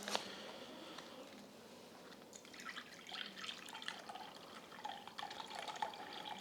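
Meat juices from a cooked chuck roast are poured off a cutting board, a faint trickling and dripping of liquid with small splashes that grows busier toward the end.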